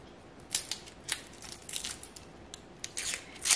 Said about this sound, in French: on va éplucher et couper donc notre oignon et notre gousse d'ail